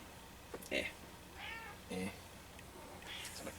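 A person imitates a cat with three short, high meows spaced across a few seconds, with quieter vocal noises between them against a low room hum.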